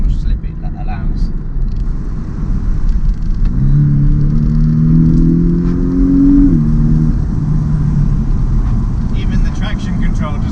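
Porsche 718 Cayman S engine while cornering: a steady loud cabin rumble with a smooth rising then falling engine tone midway, fairly subdued and even throughout.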